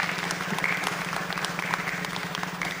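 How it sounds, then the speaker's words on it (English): A studio crowd applauds on cue during a comedy sports podcast segment: steady, dense clapping held at an even level throughout, with a sustained tonal hum running underneath. "I'll hold for applause."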